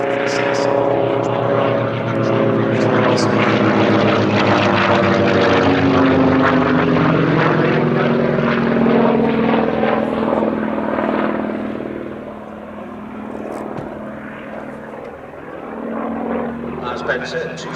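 A Percival P.56 Provost T.1 propeller trainer aircraft flies overhead with a strong droning engine buzz whose pitch sweeps as it passes, fading after about twelve seconds, while a voice talks over it throughout.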